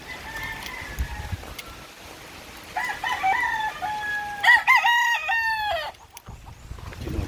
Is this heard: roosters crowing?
yes